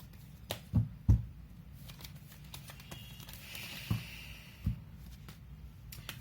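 Tarot cards are shuffled close by, with soft papery riffles and several sharper taps and knocks at irregular moments, fairly quiet and with no talking.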